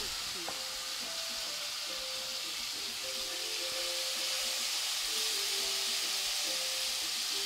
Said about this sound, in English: We're going to put these skin side down because we want to get a nice quick sear on them.